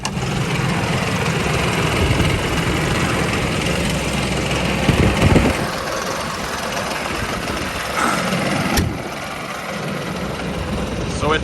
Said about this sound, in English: So it's a Mahindra 6065 with a power shuttle cab.